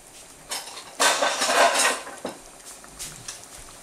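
Short metallic clatter as a lid is set onto a cooking pot of Congolese chicken and squash stew, one louder clang followed by lighter knocks and clinks.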